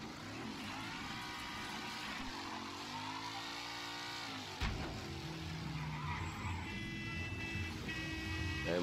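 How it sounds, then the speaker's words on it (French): A car horn honks in the Mafia III video game, a steady tone sounding in the later seconds over continuous engine and road noise, with no talking. "Eh, moi aussi je peux klaxonner hein."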